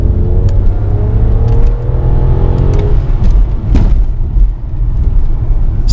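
A BMW 760Li with a 6.0L V12 goes to full throttle from inside the cabin, giving a deep, steady rumble with a rising engine tone and road noise, fairly loud and continuous with no talking.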